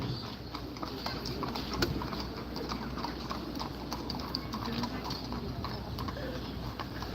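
Horses clip-clop steadily at a moderate distance, a continuous patter of hooves with a faint voice in the background.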